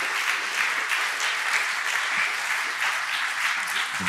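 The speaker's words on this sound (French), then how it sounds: "Merci de les applaudir." A seated audience at a talk on women in humanitarian work in Geneva gives sustained, even applause. The dense clapping holds steady throughout.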